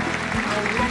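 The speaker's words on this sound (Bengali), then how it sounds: "খুব ভালো, জোরে হাততালি।" A studio audience at a Bengali family game show applauds, a dense, loud burst of clapping that fills the whole moment, with a voice faintly mixed in underneath.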